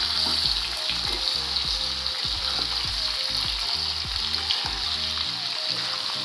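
Garlic fries in hot oil for homemade mango pickle, a steady bright sizzle with repeated low scraping stirs underneath, close and continuous without talk.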